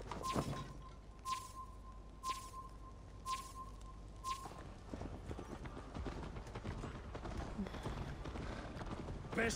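A horse gallops in Assassin's Creed Valhalla, quick rhythmic hoofbeats under faint talk, with a few sharp chimes early on before the hooves carry on alone.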